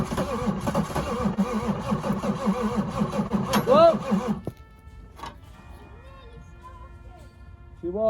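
Range Rover P38 engine cranking on a weak battery as it tries to start, a dense labouring churn for about four seconds that cuts out abruptly, followed by quieter workshop sounds and a brief renewed burst at the end, with voices nearby.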